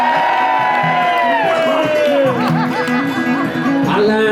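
An audience at a live AmericanaFest concert cheers and whoops loudly for several seconds, a dense roar of voices with rising and falling shouts, and a sustained tone holds underneath.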